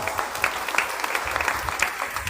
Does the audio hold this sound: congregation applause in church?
yes